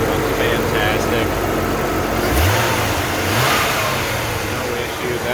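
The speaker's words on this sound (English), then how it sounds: "The engine runs fantastic." A 1996 Corvette LT4 V8 with a Z51 package, 6-speed, and SLP intake runs steadily nearby, with a couple of sharp throttle blips rising over the idle.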